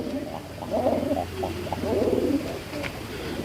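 Several pigeons in a cage give close, throaty coos in short rolling bursts, rising and falling over a low steady hum.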